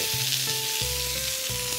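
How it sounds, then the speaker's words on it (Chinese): A sous-vide slow-cooked beef steak sears in a hot pan, giving a loud, continuous close-up sizzle with a faint steady hum underneath and no talk. "即周圍咧係咁煎煎佢啦"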